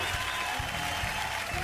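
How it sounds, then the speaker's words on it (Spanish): A canned applause sound effect plays on a radio show: a brief, dense burst of many hands clapping, steady and fairly loud throughout. "Le pusimos un aplauso."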